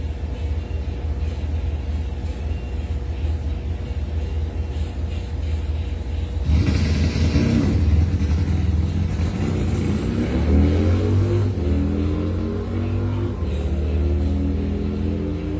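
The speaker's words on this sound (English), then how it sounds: "Buell motorcycle." A Buell drag racing motorcycle at a test-and-tune drag strip event, its engine rumbling steadily at a distance before a loud burst of revving around the middle, then a rising, accelerating note that fades back into a steady rumble.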